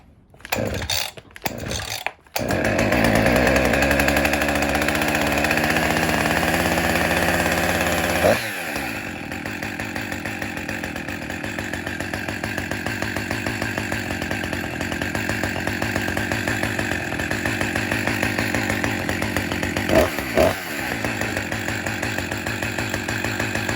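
A Husqvarna 346XP chainsaw, just started after being flooded, runs loud and steady; a high revving burst settles after several seconds into a continuous idle drone that carries on to the end.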